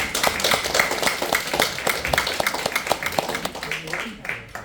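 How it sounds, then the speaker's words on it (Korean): An audience claps for a chairman about to begin a lecture, a dense run of sharp individual hand claps that fades toward the end, with voices mixed in. "박수 많이 부탁드립니다"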